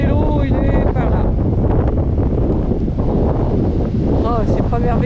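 Strong wind buffets the microphone outdoors beside a campervan, a loud, continuous roar with low rumbling gusts, while a few brief tonal cries or calls sound over it.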